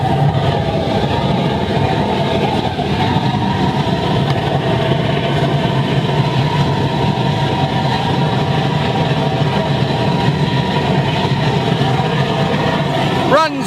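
A large aluminium-melting scrap furnace burner roars steadily at high output, with air blasting fuel in, producing a loud continuous broadband rumble with a steady hum and no pauses throughout.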